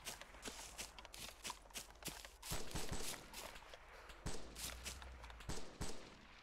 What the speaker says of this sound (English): I do hear shots